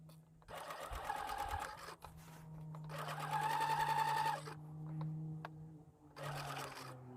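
Sewing machine stitching the waistline of a box pleated skirt, running in three steady whirring bursts of a few seconds each with short pauses between them, fairly close and quiet.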